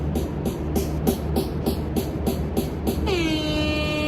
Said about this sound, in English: So it's got a metronome on it and then an air horn.